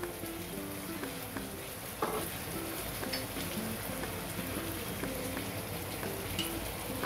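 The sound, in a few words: veg Manchurian frying in pan as tomato sauce is added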